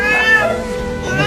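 An agitated tabby stray cat meows loudly and close, clawing at a metal cage. Its drawn-out, wavering cries fill the short moment with no talk.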